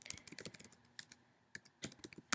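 Quiet typing on a computer keyboard on a Mac, irregular clusters of crisp key clicks and pauses, close and alone with no talk.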